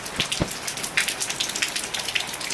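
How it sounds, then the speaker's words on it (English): Light rain during Hurricane Irma patters in scattered close drops, irregular soft taps over a faint background hiss. "Right now we're just feeling a little bit of rain and a little bit of wind."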